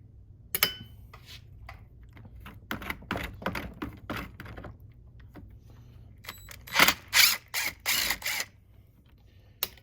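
Screws are taken out of a Stihl MS441 chainsaw, with scattered close clicks and scraping taps, then a short cluster of sharper metallic clicks near the end, in a quiet room without talking.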